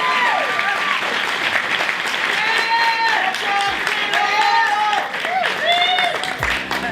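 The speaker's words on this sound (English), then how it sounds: "Another round of applause for Sheila Moody Bennett." A crowd applauds honoree Sheila Moody Bennett at the Exceptional Women of Color awards ceremony; sustained, dense clapping fills the room with cheers and whoops rising over it and voices mixed in.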